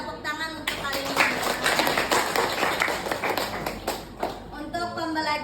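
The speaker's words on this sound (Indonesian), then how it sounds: "tepuk tangan untuk kalian" Students in a school classroom clap their hands together in a dense burst of applause lasting a few seconds, with voices speaking before and after it.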